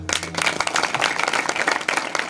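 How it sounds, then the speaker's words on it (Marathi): An audience at a devotional kirtan gathering claps together in dense, continuous applause, loud and close throughout the short burst. "याच्यासाठी सगळ्यांनी टाळ्या वाजवा"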